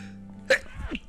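A single sharp sneeze bursts out mid-clip, loud and close, with faint murmuring and room noise around it.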